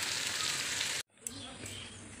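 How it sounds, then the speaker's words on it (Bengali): Long beans frying in a pan give a steady broadband sizzle that cuts out for a moment and then resumes with a gentler crackle. "বরবটি ভাজা হচ্ছে"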